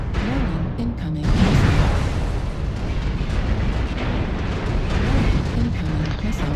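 Incoming missiles exploding in a video game battle, with a rumbling, dense barrage of blasts and booms rolling on continuously and loudly, a burst near the start standing out.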